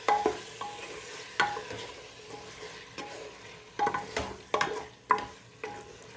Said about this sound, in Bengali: দিয়ে দিলাম আমার চিকেনটাকে এবারে ভালো করে ভাজবো